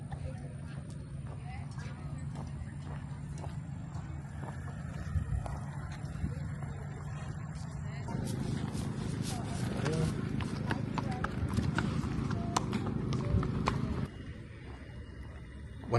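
Horses at a historic Texas ranch during a frontier festival, with steady clip-clop of hooves and occasional snorts close by, while people talk and a crowd murmurs in the background.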